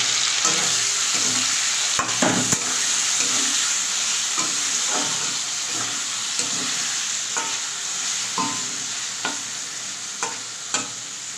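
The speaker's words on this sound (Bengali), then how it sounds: "তো এই তেলের মধ্যেই আমি এবার পেঁয়াজগুলো লাল লাল করে ভেজে নেব।" Onions fry in hot white oil with a steady, close sizzle throughout, broken by occasional clinks and scrapes from stirring.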